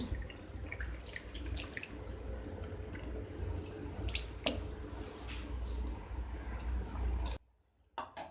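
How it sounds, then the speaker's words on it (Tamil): Tamarind extract poured into a pot while cooking koottanchoru, a steady wet splashing and trickling that runs for about seven seconds before stopping abruptly. "எடுத்து புளி கரைச்சல் இதில் ஊற்றிடலாம்"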